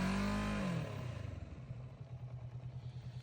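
A motorcycle engine revs hard at the start, then settles into a throbbing, pulsing idle-to-low rumble as the rider eases off during a private riding lesson, with no talk.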